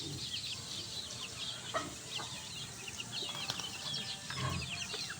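Native chickens on a farm clucking softly while feeding, scattered low clucks and chirps at close to mid distance over a steady outdoor background hum.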